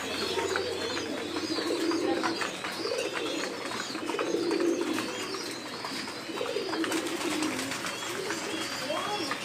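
Pigeons coo steadily in a loft where they are being fed grit, low repeated coos layered with scattered chirps and a busy flock murmur running throughout the clip.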